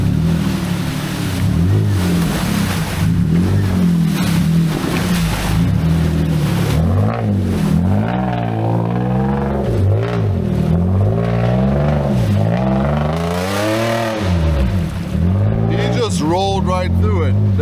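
An off-road vehicle engine revs hard through jungle terrain at a rainforest challenge event in Malaysia, rising and falling in repeated surges. It sounds loud and close, with people talking over it.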